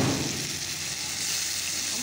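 Chopped onions frying in hot oil with cumin in a home kitchen pan, giving a steady, close sizzle that holds for two seconds with no talking.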